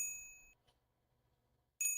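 A bright bell chime from a gift effect on a Bigo Live stream rings at the start, fades into near silence, then sounds again near the end, loud and clear with no talk over it.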